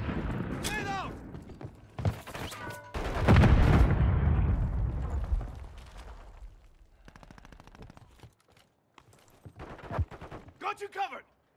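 Grenade blasts and bursts of gunfire from a Modern Warfare 3 multiplayer match on PlayStation 5, with one loud broad explosion dominating the middle, sharp shots scattered around it and game voice callouts in between.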